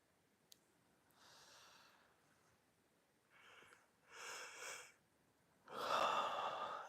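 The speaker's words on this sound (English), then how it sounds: "And a big yawn." A big, slow yawn during a quiet meditation session, drawn-out breathy exhales that swell and build to a loud, open final yawn, heard alone with no talking.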